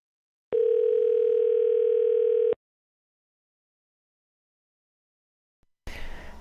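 A telephone line gives one steady pure tone for about two seconds, then cuts to silence before a burst of noisy sound at the end.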